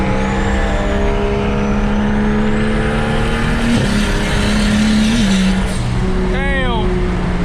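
BMW 335i engine and exhaust while driving on a hot day, a sustained drone with gear-shift steps and rising revs, loud and close inside the car, with voices talking over it.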